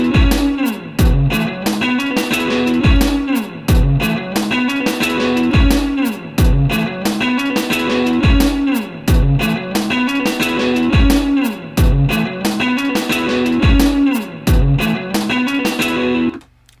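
A recorded guitar part plays back in Logic Pro 9, slightly gritty and loud, over a steady beat with regular low thumps for several bars, then cuts off abruptly at the end.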